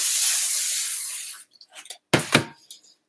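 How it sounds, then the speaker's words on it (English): A short burst of cooking spray hisses steadily onto a baking pan for over a second, followed by a few soft clinks and taps of the pan being handled nearby. "I'm just going to give it a quick"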